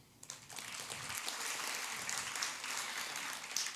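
Applause from an audience at a talk on chronic pain, a steady moderate wash of clapping that starts after a brief quiet moment and continues without talk.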